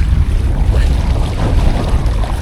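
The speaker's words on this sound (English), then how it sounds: "These waves are getting pretty good." Waves slap and splash around a small sailing boat on open water during the Everglades Challenge race, loud and close, with a dense rush of water and heavy wind buffeting the microphone throughout.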